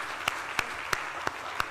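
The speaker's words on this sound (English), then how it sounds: "a round of applause for all of you" Audience applause at an annual business conference: a steady wash of clapping from a crowd, with five sharper individual claps standing out at regular intervals, moderately loud and without speech.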